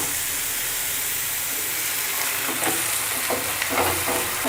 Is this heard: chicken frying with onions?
yes